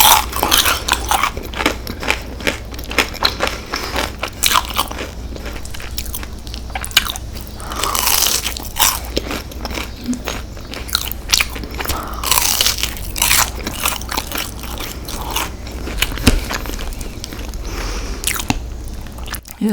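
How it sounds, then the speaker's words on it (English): Close, loud crunching and chewing of Taco Bell crispy rolled chicken tacos, repeated bites and munching in an uneven rhythm, no talking. "because I want this crunchy sound."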